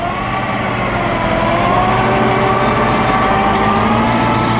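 Loud, sustained Bugatti engine roar close by at the Pebble Beach Concours, holding a steady high-pitched drone with slight rises in pitch throughout.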